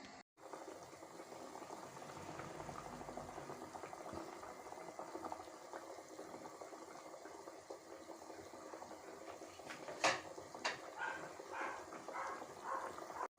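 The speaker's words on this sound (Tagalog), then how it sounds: "muna natin siyang kumulo" A pot of vegetable stew with labong, saluyot and eggplant bubbles at a low, steady boil, a soft continuous simmer with a couple of brief clinks toward the end.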